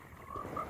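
A frog croaking at a pond, heard as two short tonal croaks over a faint background, alone with no voices.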